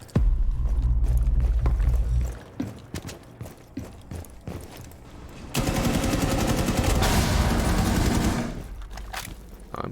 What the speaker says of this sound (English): When I swap people, I hear the gunfire from the other person.